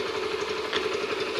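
A Yamaha Factor motorcycle idling on its original exhaust, a steady, close, buzzing engine drone with an even rapid pulse and no break.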